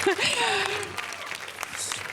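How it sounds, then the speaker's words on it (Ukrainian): Applause from an audience at a dance studio event, steady clapping running under a voice as he talks over it. "Я розумію, що ви не вперше чуєте такі оплески."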